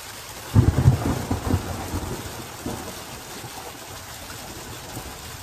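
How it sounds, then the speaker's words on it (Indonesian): Rain falls steadily while a loud rumble of thunder rolls in early and fades away, leaving a continuous hiss of rain with no voices. "Titik-titik air akan jatuh ke permukaan bumi. Peristiwa itulah yang kita sebut dengan hujan."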